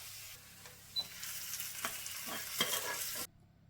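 Fried onions tipped into a sardine and potato curry give a soft close sizzle with a few stirring scrapes, then cut off abruptly into near silence.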